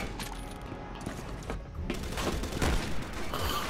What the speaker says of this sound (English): We get semi-auto sniper rifles.